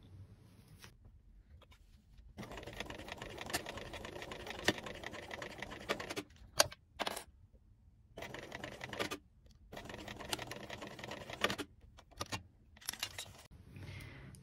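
A sewing machine top stitches a fabric pouch in several close, rapid whirring runs. Each run lasts a few seconds and is split by short quiet pauses, with no talking.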